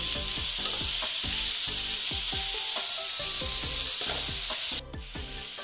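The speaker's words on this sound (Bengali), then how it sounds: "অল্প আমি এগুলো ভেজে নিচ্ছি।" Momo filling with cabbage frying in oil, a loud constant sizzle under rapid rhythmic scraping of a spatula against the pan, close and with no voices.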